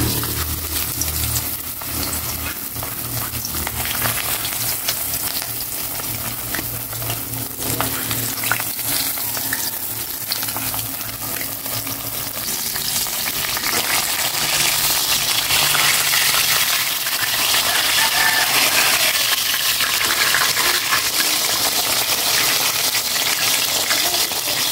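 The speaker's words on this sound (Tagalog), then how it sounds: "Magprito na ako ng bangus." Bangus (milkfish) fries in hot oil with a dense, continuous sizzle and crackle that grows louder and harsher partway through, broken by occasional faint clinks, and no talking.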